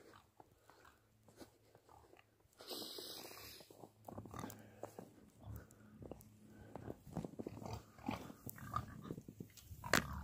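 Farm pigs grunt and snort close by in a low, irregular series of snuffling bursts, with some rustling and chewing-like noises mixed in and no speech.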